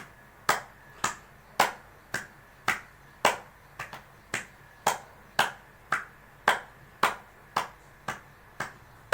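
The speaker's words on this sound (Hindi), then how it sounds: "इस तरह से ताली बजाएं" Steady hand clapping as a health exercise, about sixteen sharp, evenly spaced claps at a moderate pace, close and clear with no talking.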